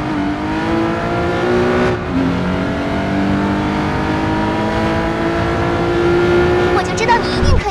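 A race car in the mobile game Racing Master revs and accelerates down a straight with a rising, steady engine whine, loud and close, while a voice speaks over it.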